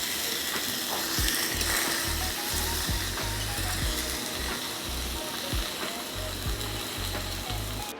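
Food sizzles steadily in a small pan at a Japanese ryokan dinner, a close, continuous crackling fry with faint clicks and low thumps underneath.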